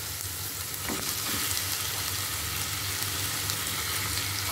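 Mutton pieces fry with turmeric, salt and spices in a pan for tomato gosht gravy, giving a steady, dense sizzle with a faint scrape of stirring, close and continuous, with no talking.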